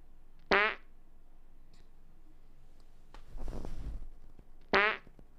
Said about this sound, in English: Someone just farted three times.